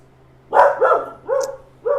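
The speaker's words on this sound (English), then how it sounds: "stop barking, Jax." Dog named Jax barking indoors: three or four close, loud barks in quick succession after a short quiet start.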